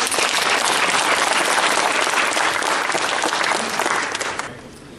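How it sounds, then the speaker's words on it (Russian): Congress delegates at a farmers' association meeting applaud loudly and steadily, a dense sustained clapping that fades toward the end. "поддержать меня аплодисментами"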